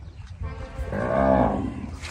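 A buffalo on a dairy farm lets out a single long, loud moo that swells and then fades, close by, over low background noise.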